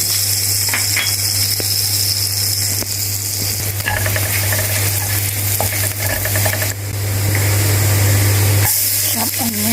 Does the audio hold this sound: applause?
no